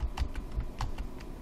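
Rapid keystrokes on a computer keyboard in a Windows search box, a quick irregular run of clicks heard close and clear with no talking.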